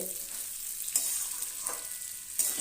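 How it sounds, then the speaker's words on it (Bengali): Rice fries in a pan under a soft, steady sizzle, with a few sharp scraping stirs of a spoon spaced through it. "চাল দিয়ে দিলাম এবার চালটা ভাজতে থাকবে"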